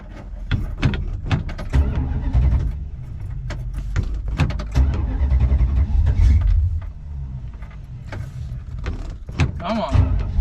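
A 1969 Plymouth Fury III engine cranks and turns over with steady low rumble and scattered mechanical clicks and knocks, heard up close in a garage during brake system work.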